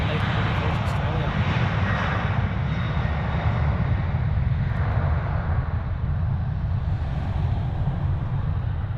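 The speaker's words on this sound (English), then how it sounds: "And we've got here the final departure of today's stream. It's the 737-800 Virgin Australia." A Virgin Australia Boeing 737-800 departs the airport in Melbourne, its engines giving a steady, broad roar that holds loud and unbroken from start to finish.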